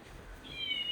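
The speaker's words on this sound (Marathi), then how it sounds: "आणि माझी मांजर" A pet cat lets out a single short, high meow near the end, rising out of a quiet room background, close but fairly soft.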